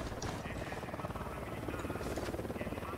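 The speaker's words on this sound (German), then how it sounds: "Heli im Anflug." A helicopter approaches in the tactical shooter game Ghost Recon Wildlands, with a steady, loud rotor drone that fills the whole stretch and blends with dense game sound.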